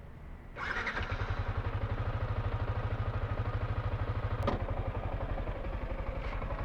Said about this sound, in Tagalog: Start na natin yung motor natin.